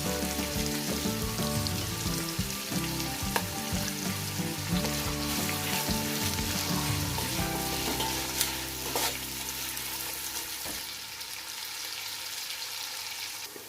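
Onions cook with a little salt in a covered pan, giving a steady, dense sizzle and crackle that carries on without a break and eases slightly toward the end.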